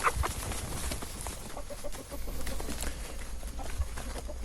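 Chickens cluck and murmur on a farm that recycles manure through earthworms, soft scattered calls spread through faint ambient noise with no talking.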